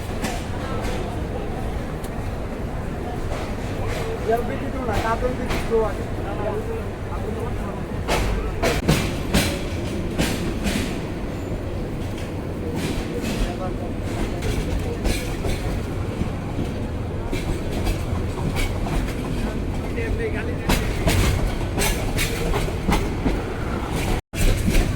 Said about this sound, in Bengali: সকাল সাতটা ষোলো মিনিটে ট্রেন ছেড়ে গেল বিমানবন্দর রেলওয়ে স্টেশন